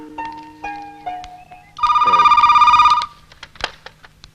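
A telephone rings in a Hindi film scene, one loud trilling burst of about a second, framed by soft clicks and quiet room sounds.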